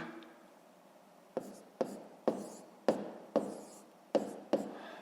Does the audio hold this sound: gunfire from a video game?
no